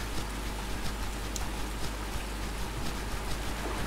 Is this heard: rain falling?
yes